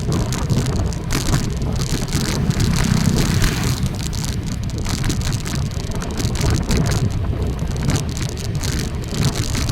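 Steady rain pours down continuously, a dense wash of patter and splashes with a low rumbling undertone throughout, no voices.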